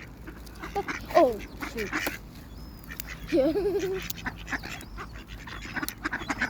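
Ducks quack as they are fed outdoors by a bench, with a few distinct nasal calls among steady background bustle of birds and a brief spoken exclamation.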